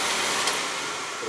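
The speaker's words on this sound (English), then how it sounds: "Got a bad pump here. Got a bad pump or a motor coupling." Oil boiler pump motor, suspected bad pump or motor coupling, running as a steady loud whirring hum with a hissy, airy wash and no break across the short stretch.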